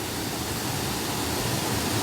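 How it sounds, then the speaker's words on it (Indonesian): A waterfall at a rural Banyuwangi site roars as a broad, steady rush of water, continuous and fairly loud with no breaks or voices. "Ini air terjun apa, Mang?"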